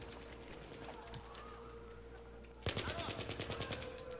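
Rapid automatic gunfire in the video game Battlefield 3, a steady rattling burst that bursts in loudly partway through over quieter background battle noise and clatter.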